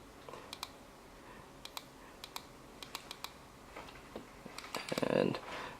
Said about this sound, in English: let's just do a click button test. So you can hear this is the fire button